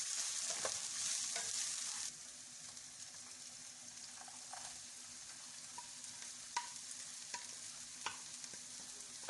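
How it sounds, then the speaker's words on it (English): Vegetables frying and caramelizing in a pan for a healthy egg wrap, a faint, soft sizzle that drops quieter after the first seconds, dotted with occasional light clicks of stirring, no voices. "Add in the rest of the vegetables and let them caramelize."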